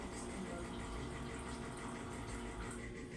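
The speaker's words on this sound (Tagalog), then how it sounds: "Hanggat punuin na lang ang isang pitcher" Liquid pouring steadily into a pitcher while making a quick Filipino snack, a continuous close gushing, splashing fill sound that holds evenly throughout.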